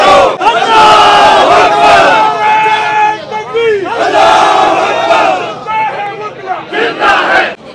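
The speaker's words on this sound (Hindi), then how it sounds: "वुकला नारेबाजी करते दिखाई दे रहे हैं और काफ़ी ज़्यादा शोर शराबा हंगामा आराई हो रही" A large crowd of lawyers loudly chants slogans outside Islamabad High Court, with rising and falling shouted voices close by and a noisy, excited atmosphere.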